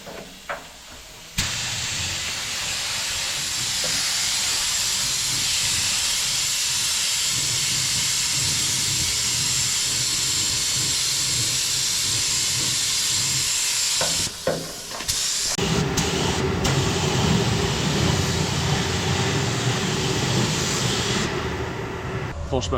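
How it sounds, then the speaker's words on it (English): A spray gun sprays San Marino blue paint onto the sill backs of a VW Transporter T5, a loud, steady hiss lasting many seconds, with brief pauses and a deeper airy tone near the end. "First bit of San Marino blue going on."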